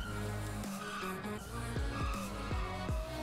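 Supercar drifting in GTA 5 with loud tire squeal and a steady engine drone, plus several sharp downward-sweeping screeches in quick succession toward the end.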